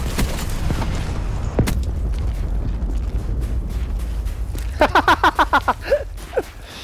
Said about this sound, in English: Big ass missile from the sky, bro.